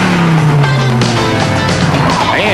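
A 1998 Dodge Viper RT10 roadster roars loud and close, its low exhaust note sliding downward as it passes, with tire squeal and road noise over a dense, continuous rumble.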